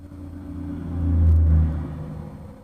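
A truck passes by outside, its low engine rumble swelling to a near, loud peak and then fading away over a couple of seconds.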